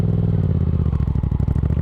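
Yamaha FZ-07 motorcycle pulling away as throttle is applied and the clutch let out, a loud close engine with a rapid pulsing low rumble and no talking.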